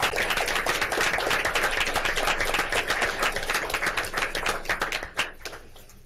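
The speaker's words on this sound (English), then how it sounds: "So these guys deserve at least 2 rounds of applause for national and for state recognition." Brisk applause fills a board of regents meeting room for award-winning students, a fast, crisp patter of many hands that runs steadily, then thins and fades out near the end.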